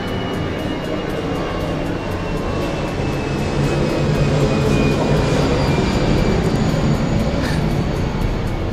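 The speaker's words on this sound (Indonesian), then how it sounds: "ada suara pesawat nih" An airplane passes overhead above a garden koi pond, producing a steady, loud broadband roar that swells slightly toward the middle and persists throughout, with a faint high whine layered on top.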